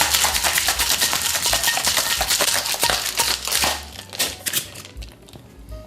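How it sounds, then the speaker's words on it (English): Cocktail shaker packed with ice, shaken hard for several seconds: dense, steady rattling clatter of ice against the tin, close and loud, easing into a few final knocks at the end, with no talk. "We will cap that up, tap that down, and give that a shake for 10 to 15 seconds to chill and combine."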